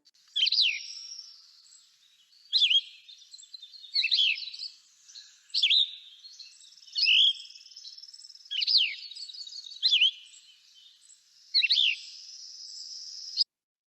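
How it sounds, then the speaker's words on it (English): A Cassin's Vireo sings slow, separated phrases, about eight short burry chirped notes spaced a second or two apart, clear and fairly close with no other sounds around them. "So the Cassin's Vireo is very slow"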